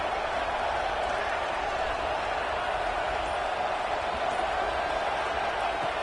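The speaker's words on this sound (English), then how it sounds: "Listen to the crowd energy here in the early going." Stadium crowd at a football game against Miami, a steady, dense roar of many voices filling the whole stretch with no breaks, loud and continuous like sustained cheering from the stands.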